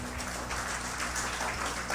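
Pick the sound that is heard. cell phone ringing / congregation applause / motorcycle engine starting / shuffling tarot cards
congregation applause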